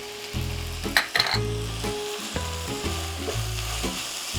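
Ground garlic frying in hot oil, with a close, steady sizzle broken by several stirring scrapes and a brief spatter burst near the start, moderately loud with no talking.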